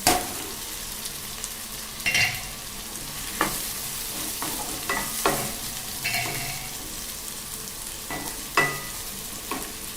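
Tomatoes fry in a pan with a steady sizzle, and okra is being added. A spoon knocks and scrapes against the pan in irregular strokes throughout.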